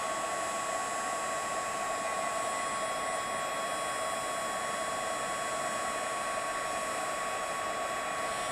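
A heat tool blows continuously while gold embossing powder on a stamped holiday card melts, producing a loud, even, close blowing hum with a steady whine that lasts throughout.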